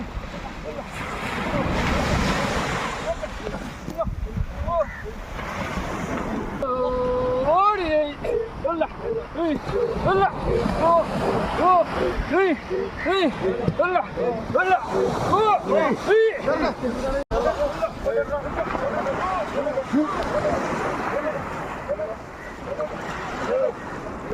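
Sea waves and surf on a beach where fishermen push a fishing boat ashore, continuous rushing water and wind noise with voices calling over it.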